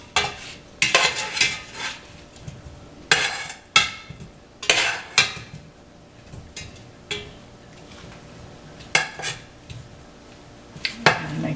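Corned beef brisket with parsley being stirred in a hot pot, irregular scraping and clattering strokes spaced a few seconds apart over a faint steady background hum.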